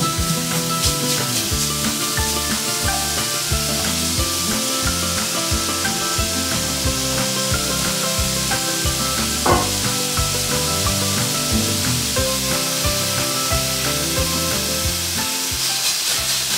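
Chorizo browns in a pan over medium-high heat, and a steady sizzle and crackle of frying meat runs the whole time with the soft scrape of stirring. No one speaks.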